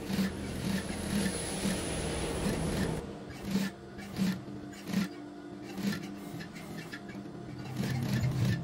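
Sewing machine stitching along the edge of a koko shirt collar, a steady mechanical whirr broken by short pauses and soft rhythmic stitch bursts, close and moderately quiet.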